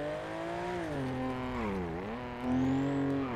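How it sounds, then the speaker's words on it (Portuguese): A car engine drones loudly and close, its pitch sagging and rising again as the revs shift over a few seconds, with no voices over it. "Esse carro faz muito barulho"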